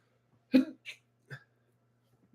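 A single sharp sneeze bursts out close and loud in a quiet indoor space, followed by a couple of shorter, softer breathy sounds, with no talking.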